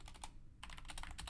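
Fingers type on a computer keyboard in quick, close clicking bursts, a short pause splitting an early flurry from a denser run of keystrokes.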